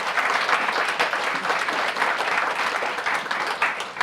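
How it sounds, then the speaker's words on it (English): Sustained applause from an audience for a panel at a leadership forum, steady dense clapping filling the room with no voices on top. "How about another round of applause for our stellar panel?"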